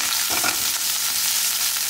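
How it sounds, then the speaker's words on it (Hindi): Cumin, ginger and garlic sautéing in a pan over a medium flame for paneer jalfrezi, giving a steady close sizzle and fry with faint stirring throughout. "इसमें 1 स्पून ऑफ जीरा डालेंगे, इसके अंदर डालेंगे थोड़ा अदरक और लहसुन, और ये सब मीडियम फ्लेम पे सॉटे करेंगे"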